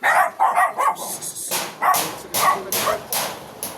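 A dog barks repeatedly near a rural Philippine home where a bahay kubo is being built, sharp loud barks in quick bursts, coming alone with no talk over them.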